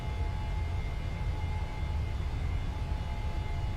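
Twin jet engines of a PMDG 737-900ER at takeoff power in Microsoft Flight Simulator, a steady loud roar with deep low rumble and a faint whine, continuous throughout.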